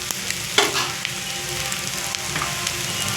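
Pieces of washed, cut bread fry in a hot pan with a dense, bright crackling sizzle, close and steady, with a sharp utensil clack near the start and light stirring scrapes throughout.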